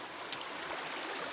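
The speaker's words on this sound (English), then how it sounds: "we'll let that sluice box clear out a little bit" Creek water rushes steadily through a gold prospecting sluice box, a constant close hiss of flowing water for a brief moment.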